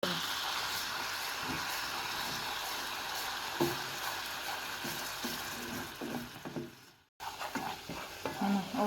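Flour stirred and fried in butter in a pan, a steady soft sizzle with repeated scraping strokes of a spoon, briefly cut off before resuming, while a voice talks faintly in the background.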